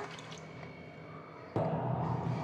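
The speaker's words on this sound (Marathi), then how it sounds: "आता आपण काय करायचं, ह्याचं पाणी काढून घेऊया" Faint drips give way to a sudden, steady gush of water pouring off soaked lentils and draining away, fairly close and continuous.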